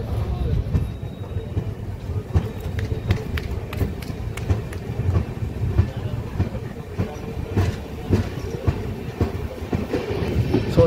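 A Secunderabad–Sirpur Kagaznagar superfast express passenger train pulls out of Charlapalli railway station, heard from on board. Wheels clatter in a steady clickety-clack with sharp rail clicks over a low rolling rumble.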